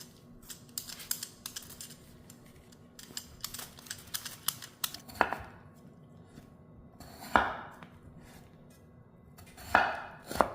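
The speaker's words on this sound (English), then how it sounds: "Now we're gonna peel the potatoes." Potatoes are peeled with quick, scraping strokes in a kitchen, a scattered series of close, crisp scratches and taps with a few louder rasps, no talking.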